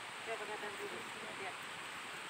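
A waterfall inside the crater of Mount Kelud in East Java gives a faint, steady rushing wash of falling water, heard from a distance with no breaks.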